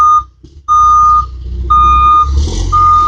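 A big debris-clearing truck doing hurricane cleanup sounds loud, repeated reversing beeps in a steady on-off rhythm, with its engine rumbling low underneath and the truck close by.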